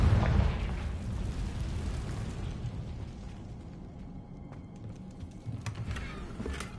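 A Confringo fire spell exploding in Hogwarts Legacy, a heavy booming blast up front that rumbles and fades over several seconds, followed by scattered small pops and crackles.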